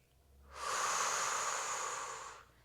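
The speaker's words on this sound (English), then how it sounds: "Breathing in through the nose and out through the mouth." A single slow, controlled breath during a Pilates stretching routine, a soft airy hiss that swells in, holds steady for about two seconds, then fades, close and alone.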